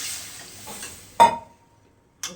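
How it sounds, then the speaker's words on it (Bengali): Water is poured into a hot pan of thin fish curry with potato and brinjal, giving a brief, sharp splash and sizzle that quickly dies away, then a short clatter of the pan. "এবার জল দিয়ে দেবো।"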